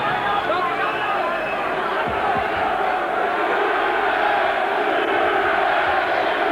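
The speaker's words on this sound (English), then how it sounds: "And at last the crowd on their feet" A boxing crowd at a Chris Eubank Snr versus Eduardo Contreras fight roars on its feet, a dense, steady wall of cheering and shouting that holds at full loudness throughout.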